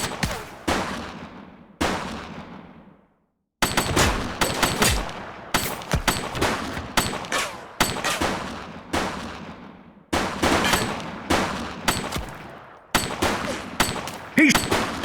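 Gunfire in the police video game The Precinct, repeated bursts of sharp, loud shots with echoing tails in clustered volleys separated by short silences.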